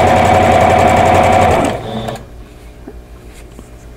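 A sewing machine runs steadily, stitching quilt block pieces for a vintage Jackson Star block, loud and close, then stops partway through, leaving a quiet room with faint handling sounds.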